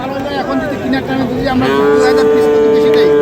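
Bulls at a cattle farm giving loud, close, drawn-out moos, one long low bellow following another, with people talking faintly in the background.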